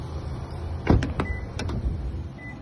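Power windows on a Subaru Forester run in a parked car, a low motor whir with a few short clicks and thumps as the glass moves and stops, close and fairly quiet.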